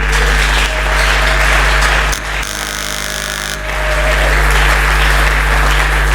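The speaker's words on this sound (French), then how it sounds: "Est-ce que tu peux acclamer pour Dieu?" Church congregation at a Sunday service applauding and cheering, a loud sustained wash of clapping that dips briefly before swelling again over a low steady hum.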